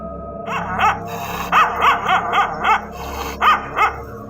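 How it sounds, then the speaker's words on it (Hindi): Angry dog barking loudly as a horror-story sound effect, a run of about nine sharp, close barks in uneven bursts with short gaps and faint whimpering tones between. "वो अपने दांतों को निकालकर जोर जोर से भौंकने लगा"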